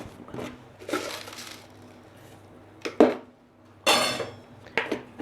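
Metal utensils clink against a pot on a stove as sugar and tea leaves go into milky tea, with a few sharp scattered knocks and scrapes over a quiet low hum.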